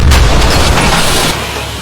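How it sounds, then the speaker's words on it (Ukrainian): A single loud, deep boom of an artillery cannon firing at the front line, followed by a rumbling, echoing tail that slowly fades. "Гармата! Постріл!"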